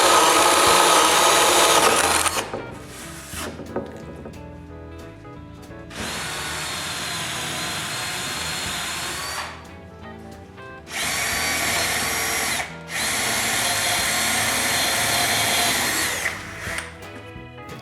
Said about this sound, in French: je dois percer plusieurs trous